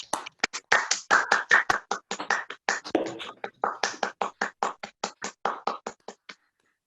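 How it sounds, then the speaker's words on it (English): Law clerks on a video call clap for a state supreme court justice: a steady run of about thirty crisp, evenly spaced claps, moderately loud and close, with no talking, fading out at the end. "please unmute your microphones and give Justice Lenk a rousing round of applause"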